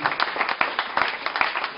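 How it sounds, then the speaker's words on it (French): A short burst of applause from a crowd, many hands clapping in quick, dense succession. "applaudissements s'il vous plaît."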